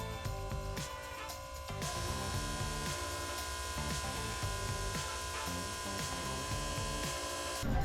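A small electric bilge pump runs on a boat, giving off a steady, faint mechanical hum with a rattling buzz that shifts slightly in pitch as it draws out water, with no voices present.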